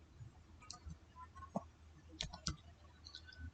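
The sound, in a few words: computer mouse clicking and typing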